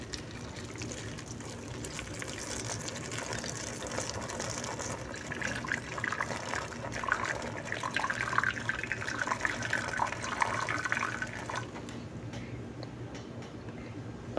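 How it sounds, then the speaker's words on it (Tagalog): Water is poured in a small amount into a pot of cassava suman being set up to steam, a steady liquid trickle and fill sound close by with no talking. "At lagyan natin ng kunting tubig."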